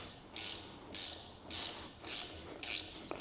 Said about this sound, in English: Now we can finish cutting the threads to the proper depth.